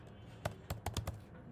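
Five quick, quiet clicks of a computer keyboard are heard as a terminal command is typed, close and isolated against a soft background hum.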